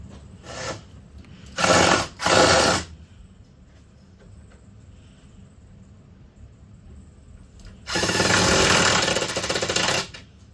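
A power drill bores into wood framing for a basement shower stall, with two short bursts and then a longer steady one. Quiet room noise fills the gaps between them.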